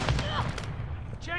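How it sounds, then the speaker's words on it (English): Enemy gunfire in Call of Duty Modern Warfare 2 Team Deathmatch, a short burst of sharp cracks and thuds packed into just over a second, mixed with game voice chatter. "Taking enemy fire."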